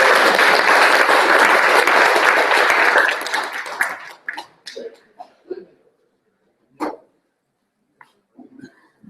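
An audience at an Ottawa livestream on Indigenous land defenders gives a round of applause, dense clapping for about three seconds that thins into scattered claps and then fades into near silence.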